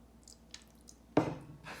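A little water is added to a plate in a Skittles diffusion experiment, heard as a brief close splash and trickle after a few soft drips, with no voices.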